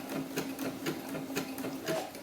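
A sewing machine sews doll gloves while skipping stitches, giving a steady rhythmic chatter of repeated needle strokes about twice a second, close up with no talking.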